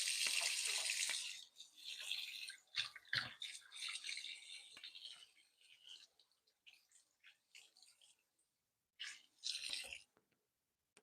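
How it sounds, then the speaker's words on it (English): Hands wetted and washed under a running tap, a close rush of water with splashing and rubbing that breaks into short bursts, then trickles and stops before a final brief splash. "wet my hands, wash my hands"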